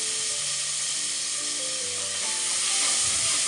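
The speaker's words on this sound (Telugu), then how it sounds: "టమాటా ముక్కలు వేసి 1-2 నిమిషాల పాటు" Tomato pieces sizzle in a pan of mutton curry, a continuous close hiss of frying with faint scraping underneath, holding steady and swelling slightly toward the end.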